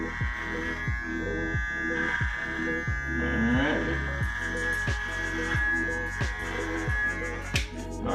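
Electric hair clippers buzz continuously while shaving a head bald, with a close, steady motor drone broken by regular strokes every half second or so.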